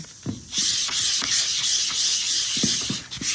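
400 grit sandpaper rubs by hand over a wooden icon board in steady circular strokes, making a close, continuous scratchy hiss with soft rhythmic thumps as each stroke changes direction.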